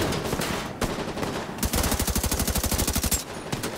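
Automatic gunfire in the video game The Division 2, repeated loud bursts of rapid shots in close succession, with a longer sustained volley in the middle and no voices.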